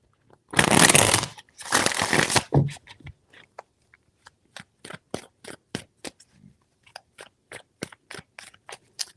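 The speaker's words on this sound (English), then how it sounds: "Three shuffles." Tarot cards are shuffled in two long riffling bursts, followed by a run of quick, evenly spaced taps and flicks as the deck is handled, close and fairly quiet with no talking.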